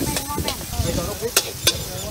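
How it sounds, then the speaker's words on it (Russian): Noodles stir-fried with chicken, shrimp and eggs at a beach street-food stall: a loud continuous sizzle with scraping, stirring strokes and two sharp metallic clacks, close up, with voices faintly mixed in the background. "Жареная лапша с курицей и креветками сразу."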